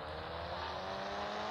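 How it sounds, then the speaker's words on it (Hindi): A Toyota Innova test-driven in the video game GTA India V, with a steady, loud engine drone and tyre noise throughout a short burst, no talk. "गाइस इससे इनोवा कार आ गया है, गाइस देखते हैं कैसा ये टेस्ट ड्राइव है इसकी।"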